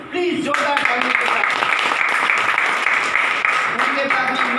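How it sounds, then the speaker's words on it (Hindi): An audience applauds at the opening ceremony of an education center in Faridabad, a dense, continuous wash of clapping that carries through the whole stretch while a voice speaks over it near the start and end. "प्लीज जोरदार तालियों के"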